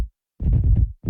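An electric guitar runs through a Fatso pedal set fully wet, pitch-shifted down one octave, giving a short, dark, heavily low-pitched chugging burst between silences, close and fairly loud.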